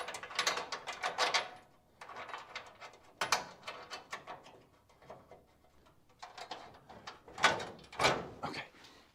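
A ratchet tightens bolts on a car's rear crossmember during trunk repair work, with quick bursts of clicking separated by short pauses, close and fairly loud.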